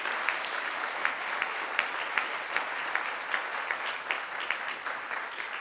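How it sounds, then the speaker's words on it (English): Audience applause for school principals at a school board meeting, a steady roomful of clapping with sharper individual claps standing out, moderately loud and sustained without talk. "Let's give our fine principals a big hand clap here"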